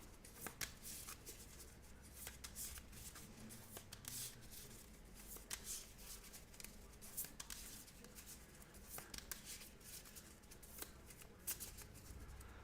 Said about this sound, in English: shuffle it back in to his deck